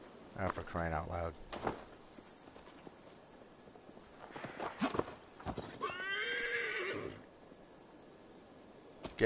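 A horse in the Assassin's Creed Valhalla video game neighs and whinnies in several loud, close calls amid clip-clopping hooves and footsteps, with a voice talking in between.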